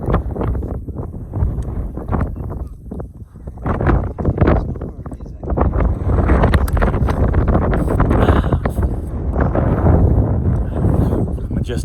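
Strong gusts of wind buffet the microphone on an exposed mountain summit along the Appalachian Trail, rumbling and roaring close by in uneven surges that grow more constant partway through.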